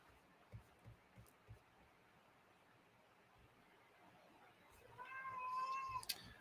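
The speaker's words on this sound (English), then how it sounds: "this cat's talking over there." A cat meows nearby in a quiet room, one rising drawn-out call near the end that follows a few soft thumps and a low background hiss.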